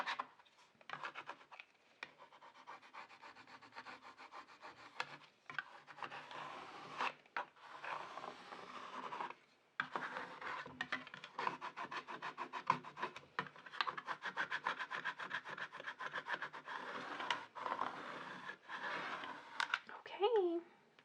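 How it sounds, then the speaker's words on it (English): A scraper tool is rubbed firmly over masking transfer tape on a chalkboard sign, giving quiet repeated scratchy strokes with brief pauses, close up. "I'm gonna go ahead and use this scraper tool, and it's perfect size for this chalkboard"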